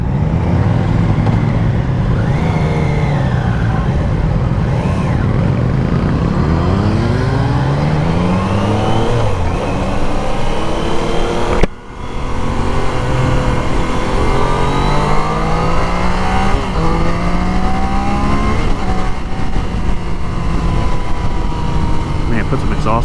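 A 2024 Triumph Daytona 660 motorcycle engine revs continuously while riding, its pitch sweeping up and down through repeated gear changes, loud and close with wind rush, and a brief dip in sound partway through.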